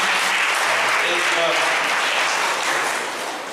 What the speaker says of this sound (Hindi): क्यों ना हम प्रभु के लिए जोरदार ताली बजाते हैं इस समय